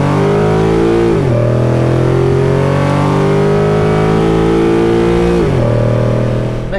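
A Cadillac XTS 3.6 V6 engine revs up loudly and close, with two sweeping rises in pitch that each hold before the engine settles back, and no voices over it.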